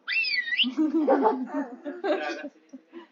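A whistle blown once, a short warbling trill at the start, followed by people laughing and talking nearby.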